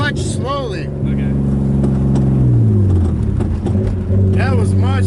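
Drift car engine revving and dropping in pitch through gear changes, loud and close, with speech over it.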